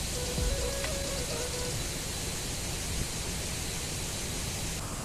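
Rain falls outdoors in the Huhuwa countryside, making a steady, even hiss that holds without a break.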